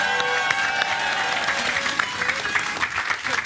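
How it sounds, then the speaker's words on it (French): On a French game show, a studio audience applauds a team with a full, continuous burst of clapping and some crowd noise. It stays loud and close throughout. "on peut quand même applaudir l'équipe de"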